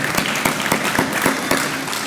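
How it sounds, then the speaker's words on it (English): An audience at an outdoor blossom trail ceremony in Fowler applauds their MC, a steady bed of clapping with a few sharper, rhythmic claps standing out, close and fairly loud throughout. "Let's give a round of applause to our MC today"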